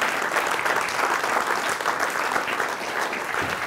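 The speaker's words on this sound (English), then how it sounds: "so we should give them a big round of applause" An audience claps steadily after a talk about walking the Te Araroa trail, a dense, even wash of many hands filling the room from start to finish with no voices over it.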